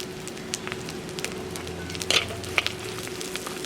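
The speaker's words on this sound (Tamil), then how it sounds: "இதையும் போட்டு பச்சை மிளகாயம் போட்டு விடுவோம்" Green chillies hit hot oil and sizzle steadily, a close, crackling fry with a few sharper pops rising over the constant hiss.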